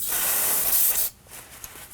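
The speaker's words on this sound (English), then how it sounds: "Using some brake parts cleaner, we're gonna go ahead and clean the bleeder." Brake parts cleaner sprays from an aerosol can onto the bleeder of a Nissan Armada front brake, a loud close hiss for about a second that cuts off abruptly, followed by quiet.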